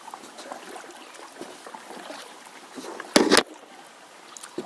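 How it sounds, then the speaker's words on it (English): Kayak paddle striking the camera mid-paddle, one loud sharp knock with a short rattle, against soft water trickles and splashes from paddling on a river. "Keep hitting the camera with my paddle"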